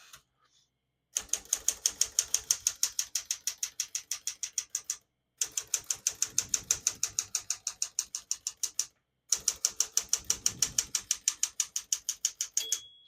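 Rapid mechanical clacking of keys on a 1964 Smith-Corona Galaxie portable typewriter in three steady runs separated by brief pauses, crisp and close, ending with the margin bell's single bright ding.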